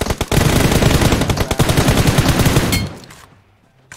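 Rapid automatic gunfire in PUBG Mobile, a loud, dense stream of close shots for nearly three seconds that cuts off and fades into quiet.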